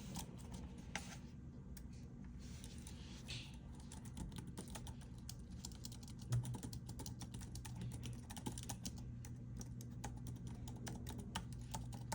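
Rapid typing on a slippery, budget $30 portable keyboard for a Steam Deck, a steady stream of light plastic key clicks and taps over a low background hum, close and continuous, with no one speaking.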